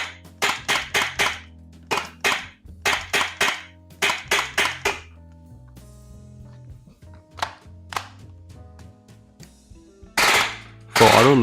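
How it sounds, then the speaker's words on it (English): A Tokyo Marui MP9 gas blowback airsoft gun, at about 50 Fahrenheit, cracks off quick bursts of sharp close shots in full auto. The firing stops mid-clip, followed by faint clicks and a loud hiss of gas at the end. "Full auto looks to be functioning pretty well until, well, the bolt gets stuck in the rear"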